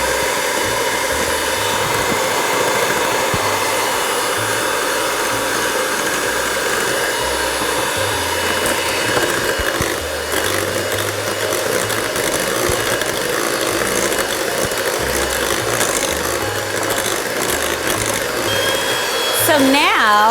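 An electric mixer runs continuously as it beats eggs into brownie batter, a steady whirring hum that lasts throughout with faint background sound.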